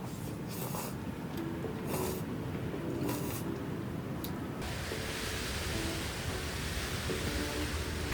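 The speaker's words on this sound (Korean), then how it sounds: "다시 또 비가 내리고 있어요." Steady rain falls at a beach campsite during a storm, a dense unbroken hiss with occasional louder patters and drips against a shelter, close and constant with no voices.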